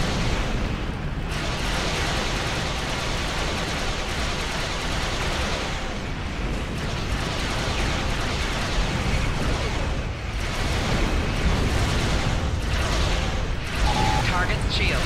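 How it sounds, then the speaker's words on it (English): Chronoplasma weapons fire in the space game Star Trek Online from a Romulan Tal Shiar battlecruiser, a dense continuous wash of energy blasts and rumbling bursts filling the whole stretch, with game voices over the top. "here's what the chronoplasma weapons look like"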